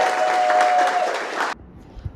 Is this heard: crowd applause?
yes